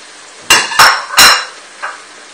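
A knife chops leek on a cutting board in a kitchen, with three sharp, loud, close knocks in quick succession followed by a softer fourth tap after a pause.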